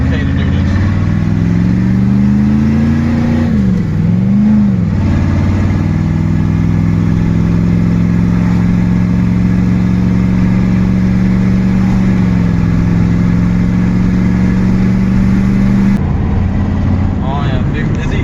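A pickup truck's tuned twin-turbo 6.5 engine hums in a steady, loud drone with road noise while cruising on a highway. Its pitch briefly rises and wavers early on, then holds level.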